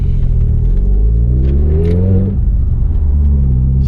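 A Volkswagen Polo GTI drives on the road. Close, loud engine rumble with revs climbing steadily, then dropping sharply at a gear change before building again.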